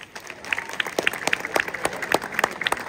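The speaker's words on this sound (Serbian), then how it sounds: "molim da ih pozdravite aplauzom" An outdoor crowd at a fishermen's night festival in Busovača applauds a band, with scattered, uneven claps rising and falling across the whole stretch.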